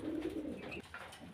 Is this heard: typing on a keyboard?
no